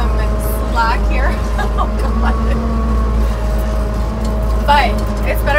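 A 1974 Pinzgauer 710K Austrian military vehicle pulling away, its engine a loud steady low drone with a whining drivetrain, heard from inside the cab while a person talks over it.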